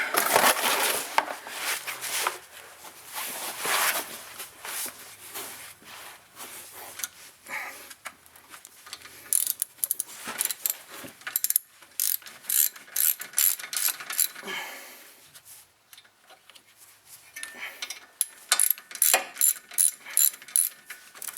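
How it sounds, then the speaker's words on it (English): A ratchet wrench clicks in rapid bursts while tightening bolts on the front brakes of a 2004 Volkswagen Jetta TDI, close up with a steady pawl rattle and brief pauses, no talk. "make sure your ratchet's tightened before you go wrenching anything down"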